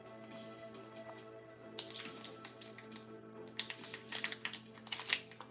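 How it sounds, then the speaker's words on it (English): Someone typing on a computer keyboard nearby during a live stream, quiet at first then bursts of rapid clicky keystrokes growing louder toward the end over a faint steady hum. "Is your wife typing?"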